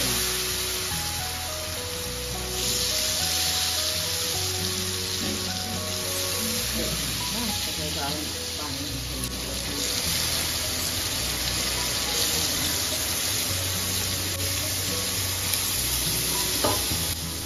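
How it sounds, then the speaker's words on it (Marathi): Masoor dal and potato are stirred in a mustard-seed tempering, sizzling steadily and close up with scraping stir sounds throughout. "फोडणीत मसूर डाळ आणि बटाटा घालून 3 ते 4 मिनिटं वाफ येईपर्यंत छान परतून घ्यायचं आहे"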